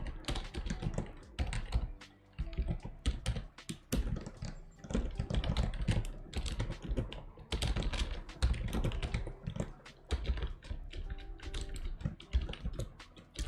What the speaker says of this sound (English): I don't feel like typing a lot.